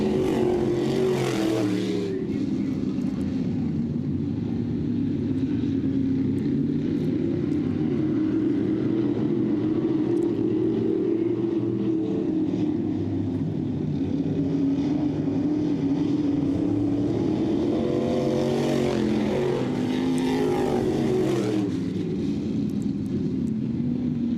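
Dirt track race cars roar around the Southern Ontario Motor Speedway in a continuous loud engine drone, with louder surges as cars sweep past, no voices.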